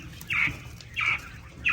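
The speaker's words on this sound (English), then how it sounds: "But you can hear some of the roosters already." Roosters in a farm coop give short, bright calls in three quick bursts, fairly close and clear over a low, quiet background.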